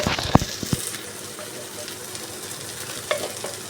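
Ghee and garam masala go into a sizzling vegetarian Bengali dish, with a steady low frying hiss and a few sharp spoon clinks against the pan as it is stirred.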